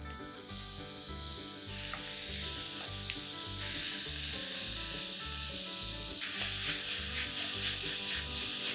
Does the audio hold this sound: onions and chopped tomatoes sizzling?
yes